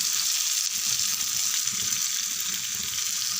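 Fish fries in plenty of oil with curry leaves, giving a loud, dense, unbroken hiss that holds steady throughout without any talking.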